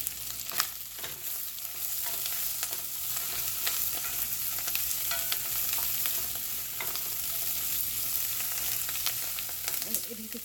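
White wine sizzles hard in a pan with shrimp for scampi, making a steady loud crackling hiss with occasional pops, close and without talk.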